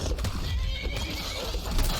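A horse neighs and whinnies in the Skyrim wilderness, with hoof clip-clops and a dense rumble of game ambience layered underneath; the whinny is moderately loud and continuous across the two seconds.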